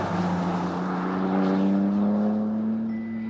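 A BMW M3 CS Touring with an S58 3-litre twin-turbocharged straight-six accelerates hard, its engine note rising in a steady, loud drone with a climbing pitch, heard alone without talk.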